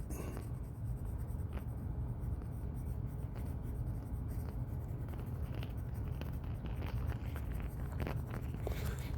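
A pencil shades the edges of a drawing of a cratered planet or moon with continuous close scratchy strokes, a steady dense rasp throughout with no talking.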